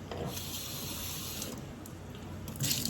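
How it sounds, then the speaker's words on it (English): Tap water rinses out the insides of bell peppers in a sink, making a faint, steady splashing stream that swells briefly near the end. "Then I'm going to rinse the inside out."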